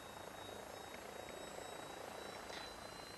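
An AW109SP helicopter engine starts up in the X-Plane flight simulator, a steady, faint turbine whine and rotor rumble holding constant throughout with no talk.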